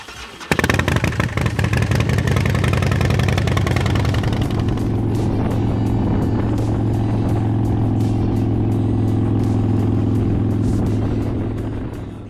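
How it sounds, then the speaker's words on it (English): A custom Harley-Davidson Street Glide starts up and settles into a loud, steady, deep rumbling idle close by, with a clattery low throb that continues without talk. "it's the noise. Let's be fair. Let's get real honest. Who doesn't love a Harley?"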